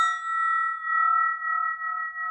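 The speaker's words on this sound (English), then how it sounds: "This bell that I'm holding now we call this a spinning bell." A sustained, pure metallic tone from a spinning bell rings steadily after a bright strike, its pitch holding while the volume gently pulses in slow waves.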